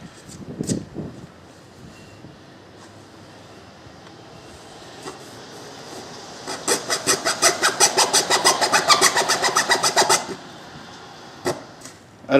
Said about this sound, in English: I'm gonna try to use a hacksaw.